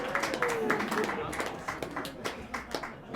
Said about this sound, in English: Psychonauts, give me a round of applause if you've done any psychedelics